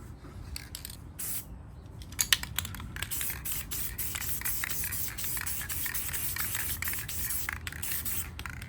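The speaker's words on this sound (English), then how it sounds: "So we're just gonna paint this with black right now and see how this turns out." Aerosol spray paint hissing in bursts as black coats go onto Traxxas Nitro T-Maxx 2.5 RC truck parts, close and steady, with short clicks and scrapes mixed in.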